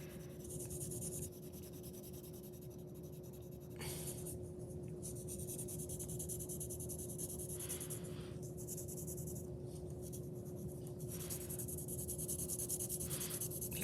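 Pencil shading fills the middle of a square on a value worksheet, a close, soft, continuous scratching rub on paper with brief pauses between strokes over a faint steady hum.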